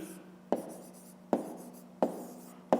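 A pen writes a fraction equation for a fifth-grade math exercise, with four crisp taps and strokes spaced under a second apart, close up and quiet.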